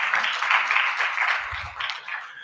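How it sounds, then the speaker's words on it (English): Audience applause at a G20-related conference launch, a steady patter of clapping from a large hall, moderately loud with a brief low thump partway through. "And maybe a round of applause for us."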